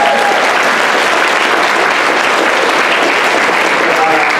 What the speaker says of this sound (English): clap for Sean!